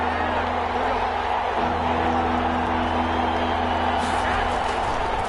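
A steady, roaring stadium crowd cheers in the American football video game Madden NFL 21 during a 49ers at Rams matchup, building ahead of a big third down as a constant wash of noise.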